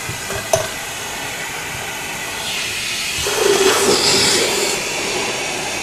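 Central vacuum system running with a wire-reinforced hose plugged in, a steady broadband rushing hiss of airflow that swells slightly louder partway through, heard alone at close range.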